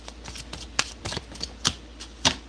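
Tarot cards shuffled and flipped at a reading table: a quick run of close, crisp riffling snaps and papery slaps, several sharp card flicks spaced through the moment.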